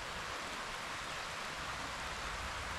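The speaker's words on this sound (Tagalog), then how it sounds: "Umuulan." Steady rain pours down over a home vegetable garden, a dense, even hiss with no breaks, no other sounds and no talking.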